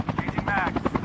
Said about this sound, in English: We got a chopper right over here.